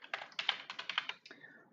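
Fingers type on a computer keyboard up close, a quick irregular run of about a dozen crisp key clicks with no talking over them.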